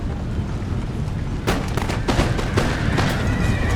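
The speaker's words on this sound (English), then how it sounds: "This cavalry's getting shot at by some snipers." Sniper rifle fire in a battle of Empire: Total War. Faint background rumble gives way to a dense run of sharp, overlapping shots and crackles that continue steadily to the end. No one talks.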